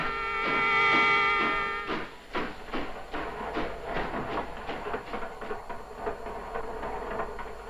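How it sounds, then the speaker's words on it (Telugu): A train passes close by a house, opening with a sustained tonal horn-like blast and then settling into a steady, rhythmic clatter of wheels over rail joints. "రైలు వెళుతున్న శబ్దం వినిపిస్తోంది"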